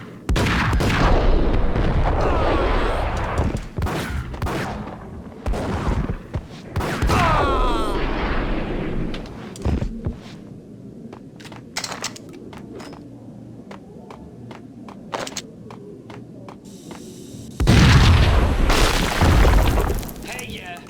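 Several loud booming explosions and crackling bursts erupt over a noisy Max Payne PC game soundscape, with voices talking between the impacts.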